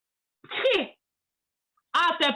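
A voice imitates two sneezes, one after another, separated by a short silence.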